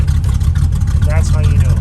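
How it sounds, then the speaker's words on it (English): A car engine idles in gear as it warms up, holding a steady, loud low rumble across the whole stretch while people talk over it. "And if it's idling like it is now on its own, then you're set."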